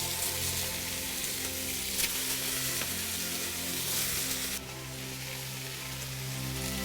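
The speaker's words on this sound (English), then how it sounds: "You want to sear it really good." Meat sears in a hot pan at a historical cooking demonstration, a loud steady sizzle and crackle of frying with occasional stirring, a sudden brighter burst of hiss partway through.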